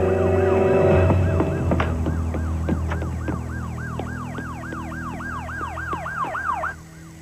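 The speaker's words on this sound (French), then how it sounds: "Ce sont peut-être les sirènes qui lui ont fait peur" Wailing police sirens sweep up and down in a steady repeating cycle, loud and close, over a low rumble of traffic or engine noise, with a sharp knock partway through.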